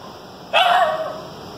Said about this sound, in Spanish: Escuché los perros.